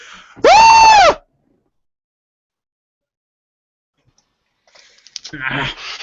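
A lone high-pitched scream sounds once in a game setting, a loud sustained wail lasting under a second, followed by a long silence and then murmuring voices and rustling.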